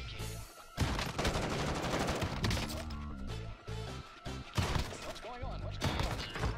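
Rapid bursts of gunfire in the video game Warzone, including a BLK shotgun, loud and dense, with crackling automatic shots and brief pauses between volleys.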